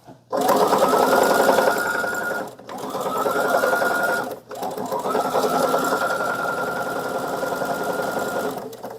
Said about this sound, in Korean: 미싱 소리 좀 조용하신 거 느껴지시나요?